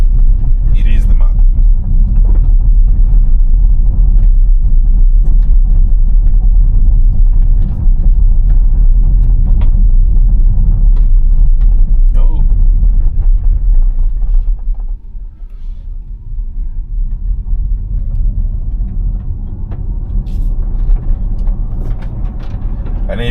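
Tesla running on FSD V13.2.2 rolls over gravel, stone and sand, giving a loud, continuous low rumble and crunch from the tires that eases slightly partway through.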